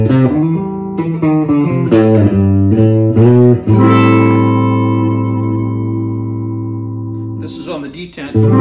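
Electric guitar on the bridge pickup with a bright, trebly tone playing a short melodic phrase, then one chord rings out and sustains for several seconds before a few more notes.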